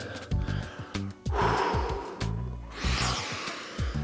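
Heavy, forceful breaths during a dumbbell strength and mobility workout, repeated sharp inhales and exhales close to the microphone in an uneven rhythm, with a few snort-like puffs and no speech.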